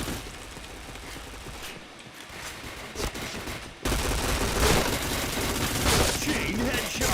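Rapid gunfire and bursts of shooting in a shooter video game, dense and continuous, growing louder partway through with a steady barrage of shots.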